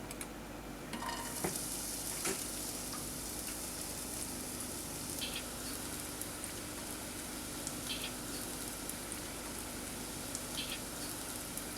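A chopped onion fries in about four tablespoons of extra virgin olive oil in a pot, crackling in a steady, close sizzle with a few stirring clicks and no voices.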